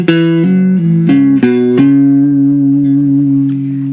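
Guitar notes played as a hammer-on and pull-off figure, the pattern repeated twice; a few quick plucked note changes ring out clearly, then a held note sustains and fades, with no talking.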